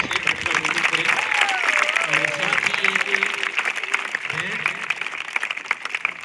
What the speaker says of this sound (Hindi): तालियों के माध्यम से